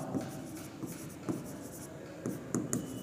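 A pen writing points down on paper, with faint scratching strokes and a few soft taps at close range in a quiet room.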